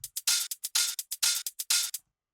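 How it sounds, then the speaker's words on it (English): A short bass house percussion loop of crisp, hissy hits and longer shaker-like bursts in a quick, steady pattern, ending abruptly in silence. "just a basic percussion loop"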